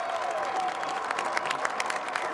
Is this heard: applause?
yes